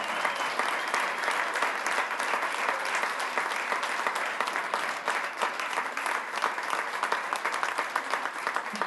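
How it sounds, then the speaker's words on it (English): Crowd applauding Alan Ramirez at a Nashville SC Unified Team event, a loud, continuous roar of clapping from many hands, steady and sustained throughout with no one speaking. "please give a huge round of applause for, it should be Alan Ramirez"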